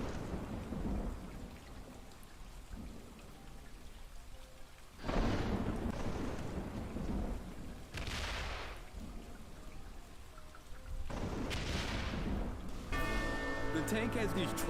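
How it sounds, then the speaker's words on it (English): Simulated tropical rainstorm inside a gecko terrarium: steady rain hiss throughout, with several loud thunder rumbles rolling in at intervals, close and full. "The tank has these tropical storms 5 times a day."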